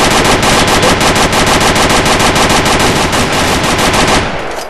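Loud, rapid automatic gunfire from the video game DayZ rattles in one continuous burst for about four seconds, then cuts off into a short fading tail.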